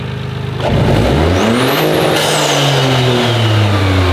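A Toyota GR Corolla engine with an MST Performance intake revs hard and climbs steeply in pitch toward red line, loud and close, then holds a high droning rev.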